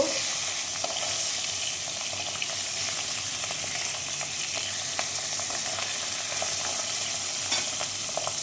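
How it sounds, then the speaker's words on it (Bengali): Pabda fish frying in hot oil, turned one by one until reddish: a steady, dense sizzle with crackling pops holds at an even level throughout, with no voices. "মাছগুলো একে একে উঠে দেবো একটু লাল লাল করে মাছগুলো ভেজে নেব"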